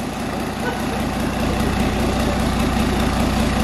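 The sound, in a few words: rebuilt QSB 5.9 diesel engine running on test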